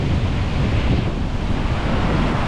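Storm-driven sea waves pound a breakwater during a super typhoon, a dense, continuous roar of surf blended with heavy wind buffeting the microphone, loud and unbroken throughout.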